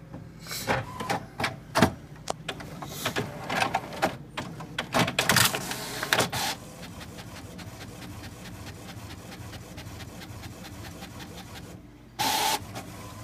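A printer runs a sheet of water slide decal paper, with a string of loud mechanical clunks and feed noises at first, then a steady, softer rapid print-head chatter, and a brief burst near the end.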